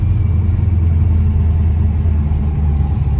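A 1969 Chevrolet Nova's engine rumbles steadily on a road test drive, a loud, continuous low drone with no talking.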